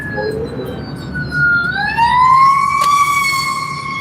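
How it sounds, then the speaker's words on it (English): An ambulance siren wails as it passes on a road, rising and sweeping in pitch as it draws near, loud and clear over low traffic rumble. "Oh, ambulance."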